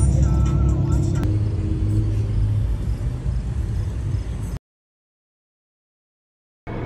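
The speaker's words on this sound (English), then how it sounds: "And it's a lot of traffic." Road traffic rumbles steadily in close range, with car engines and low vehicle drone filling the first four and a half seconds before an abrupt cut to silence and a brief return at the end; voices murmur faintly under the noise.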